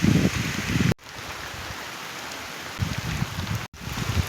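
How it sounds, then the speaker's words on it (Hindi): Heavy rain pours down on a village farm field in a steady, dense hiss, briefly cut off twice. "मैं खेत आई और बारिश झमाझम हो गई"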